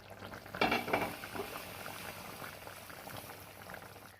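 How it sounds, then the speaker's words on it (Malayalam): Tuna fish curry bubbling in a pan on a low flame, a steady close simmer with soft popping and a couple of brief louder burbles near the start, no voices. "ഇനി നമുക്കിതൊന്ന് അടച്ച് വെച്ച് ചെറുതീയിൽ വേവിച്ചെടുക്കണം"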